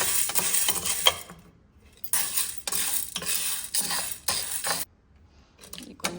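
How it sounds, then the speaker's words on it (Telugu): Dry chana dal being stirred and tossed in a pan, with bursts of scraping and rattling lentils against metal separated by short quiet gaps, close and fairly loud. "కప్పు శనగపప్పు కూడా వేసి ఇవి కూడా కొద్దిగా ఫ్రై చేద్దామండి."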